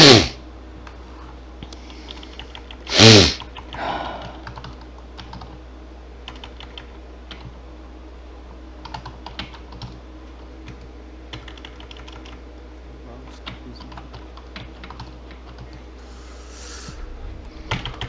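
Someone types on a computer keyboard next to an Xbox setup, a loose run of soft clicks spread over many seconds, with a couple of louder knocks and thumps near the start.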